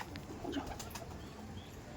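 A male show pigeon coos softly at a loft with birds kept for tournament flying, a low murmuring call under steady background noise with no speech.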